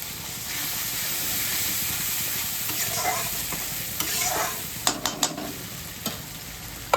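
Spice paste for a paneer dish sizzles and hisses steadily as water is added to the hot pan, with a few sharp clinks of a spoon near the end and no talking.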